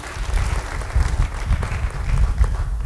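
Congregation applauding in a church service, a dense, steady wash of many hands clapping that fills the space at moderate loudness without a break.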